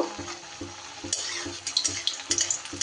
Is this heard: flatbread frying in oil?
yes